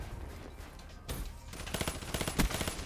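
In the video game Black Ops 3, an M16 rifle fires rapid bursts of sharp shots, starting faint then becoming a denser, louder rattle toward the end.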